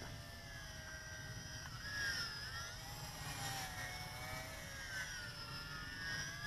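A Yizhan Tarantula X6 quadcopter flies funnel manoeuvres, its motors giving a steady whine whose pitch rises and falls with the moves over constant low rumble, at moderate distance.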